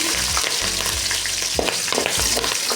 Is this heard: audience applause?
no